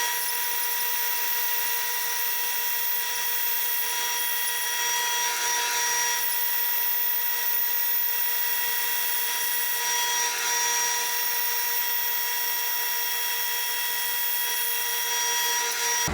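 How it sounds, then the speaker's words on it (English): A bandsaw fitted with a resaw blade runs steadily while resawing thick wood stock into thin strips, a constant high whine with harmonic tones, loud and unbroken throughout, no talk. "I'll use my bandsaw with a resaw blade and take a thick piece of stock like this and resaw this into thin strips"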